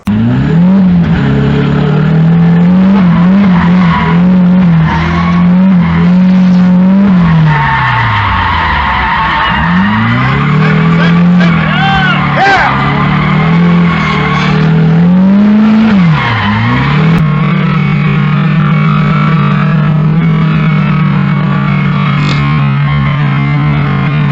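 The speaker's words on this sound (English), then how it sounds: "This is my 92 240SX drift car." A 1992 Nissan 240SX drift car slides with loud, sustained tire squeal and a revving engine whose pitch rises and falls through long skids, continuous and close.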